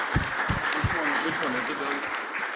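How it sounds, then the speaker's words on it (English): An audience gives a round of applause at a scientific talk on open science and data stewardship; steady clapping runs the whole time with voices talking over it. "Did we give Hook a round of applause?"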